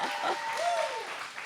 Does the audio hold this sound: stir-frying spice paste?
no